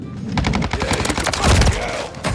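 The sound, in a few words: BAS-B or Cronen Squall gunfire in Modern Warfare 3 video game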